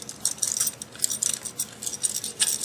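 Metal parts of a CATalyzer quad valve, the pressure relief valve and mix chamber, being fitted back together: close, small, irregular metallic clinks and taps in quick succession, with no voices.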